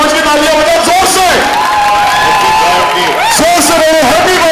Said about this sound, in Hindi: अपना बच्चा समझ के तालियां बजाओ जोर से